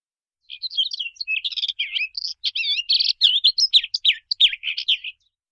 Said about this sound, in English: Twitter. Bird.